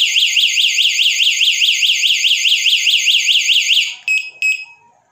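A wireless anti-theft bicycle security alarm blares close and loud, a fast warbling electronic siren repeating steadily for about four seconds, then cuts off, followed by two short chirps.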